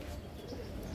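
Soft, low cooing of pigeons, steady and faint, with a murmur of background noise.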